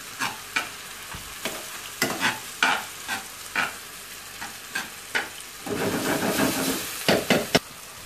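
Tomatoes with salt, pepper, red pepper and spices sizzle and fry in a pan for shakshuka, with repeated sharp scraping stirs at irregular intervals over a soft background hiss, rising into steadier sizzling later, with no talking.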